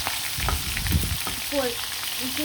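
Spiced chicken pieces sizzle steadily in a pan, a continuous close-up hiss with a few soft stirring knocks and no talk.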